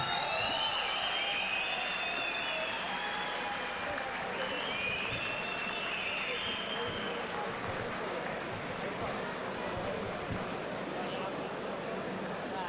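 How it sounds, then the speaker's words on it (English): Steady applause from a boxing crowd after a fight, a dense wash of clapping that holds throughout, with faint voices and chatter mixed in. "a big round of applause for a gallant Dennis Okcal"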